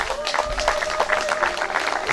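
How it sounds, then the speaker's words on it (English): An audience at a wedding ceremony claps steadily, a dense patter of many hands with a faint murmur of voices underneath. "Let's keep on clapping for them."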